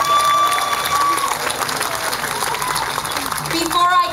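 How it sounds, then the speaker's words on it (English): Audience applause at an outdoor Lotus Festival event in Los Angeles, a steady wash of clapping and crowd noise held at an even level throughout. "Let's give them a big round of applause"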